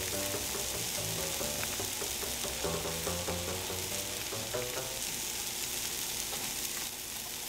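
Sliced mushrooms and mixed vegetables fry in a pan, crackling and sizzling continuously up close, with occasional scrapes from stirring over the steady hiss.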